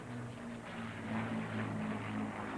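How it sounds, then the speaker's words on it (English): Avro Lancaster bomber with four Rolls-Royce Merlin engines flying at an air show, a steady droning engine roar with a low throbbing hum, heard at a distance and holding level throughout. "the Rolls-Royce 75th anniversary celebration continues with 4 Merlins and the Lancaster of the RAF's Battle of Britain memorial flight"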